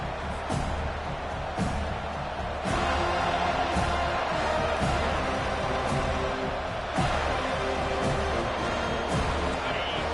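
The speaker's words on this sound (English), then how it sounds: "This crowd bringing an ear-splitting welcome to their visitors." Stadium crowd at a college football game, Seminoles kicking off, roars loudly and continuously, a dense wash of cheering with occasional sharper bursts, under commentary.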